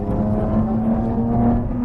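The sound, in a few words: Lotus Evora 400 supercharged engine and exhaust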